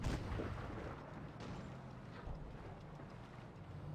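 Tank cannon firing a HEAT shell in a video game, a loud booming blast at the start that rolls off into a low rumbling tail with ongoing battle noise.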